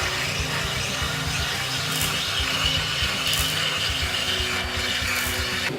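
A power drill with a 1 3/4 inch hole saw grinds steadily through wood with a low buzzing whir and a gritty cutting rasp, continuous and close.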